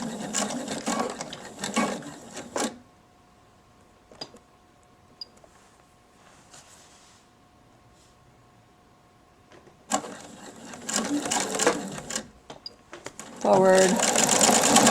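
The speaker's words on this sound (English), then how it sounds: "Press your foot down, start to sew." A sewing machine stitching a homemade fabric face mask runs in two loud bursts of rapid mechanical whirring, separated by a quiet pause with a faint hum, near and clear.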